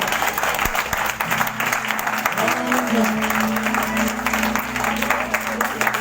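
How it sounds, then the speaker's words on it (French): Sustained applause fills a church conference hall, dense clapping from a large congregation, loud and even throughout, with a voice speaking and sustained musical tones underneath. "Je pense qu'on peut applaudir Jésus plus fort encore."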